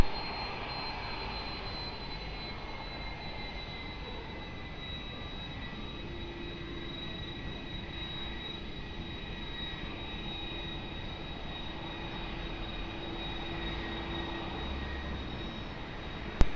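Airplane taking off at Lisbon Airport, a steady broad engine roar holding at constant strength throughout, distant and unbroken, with no voices.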